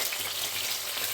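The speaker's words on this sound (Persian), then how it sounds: "حالا پیاز اضافه میکنیم داخل روغن" Steady hissing sizzle of onion frying in hot oil, soft and continuous, with no voices.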